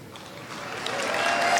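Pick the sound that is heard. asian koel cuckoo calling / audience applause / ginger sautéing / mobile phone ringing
audience applause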